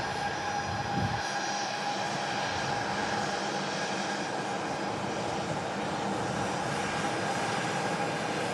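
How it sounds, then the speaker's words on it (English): A Jet2 airliner taking off from the south side of an airport, bound for Fuerteventura, its engines giving a loud, continuous roar that stays steady throughout with no talk. "Jet 2 on the south side, heading out to Fuerteventura"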